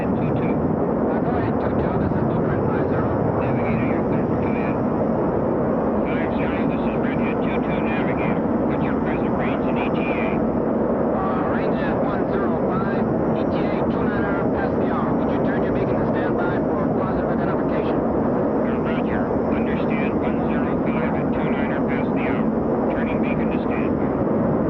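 Jet engines of a Boeing KC-135 Stratotanker air refueling tanker roar in a loud, continuous, dense wash of noise, with a voice speaking over it.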